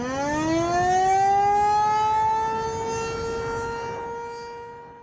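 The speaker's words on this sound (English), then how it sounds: "The outdoor warning sirens are meant to alert those that are engaged in outdoor activities." A civil defense warning siren holds a long, steady rising tone, loud and droning, slowly fading toward the end.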